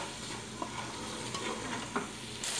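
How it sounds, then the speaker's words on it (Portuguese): Seasonings sautéing in a little oil in a pan for a Brazilian salt cod stew with dendê oil, a steady close sizzle broken by a few scraping stirs of a spoon, with no voices. "coloco todos esses temperos na panela com um pouquinho de óleo para refogar."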